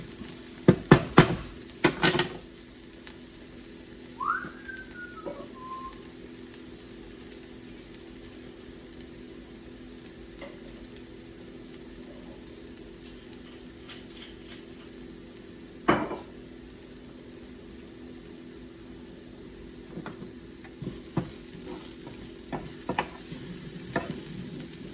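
Beef tenderloin and shallots cooking in a frying pan, a steady low sizzle running throughout with occasional sharp clinks and stirring knocks from the pan, no voices.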